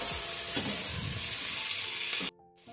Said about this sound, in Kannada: ಈರುಳ್ಳಿ ಕೆಂಪಾಗವಲ್ಲಿ ಹುರ್ಕೋಬೇಕು.